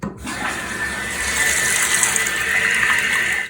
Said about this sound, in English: you'll turn back on the water to fill up the top bowl